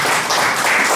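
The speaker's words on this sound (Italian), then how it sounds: "E qua ci vorrebbe un applauso." Audience applause at an Italian history lecture on Garibaldi volunteers in Spain, a dense, steady wash of many hands clapping together throughout the short moment, loud and close with no talk over it.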